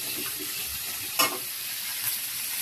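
Fish and dried fish sizzle steadily in hot oil in a home kitchen. A constant crackling hiss is broken by a couple of sharper pops.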